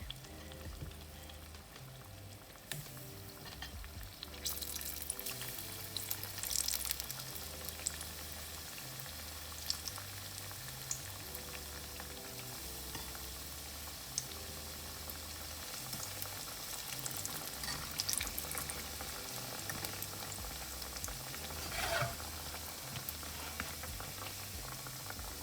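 Rounds of Jamaican festival dough bubble and sizzle steadily in a pot of hot oil, a loud continuous frying hiss that runs throughout with no talking.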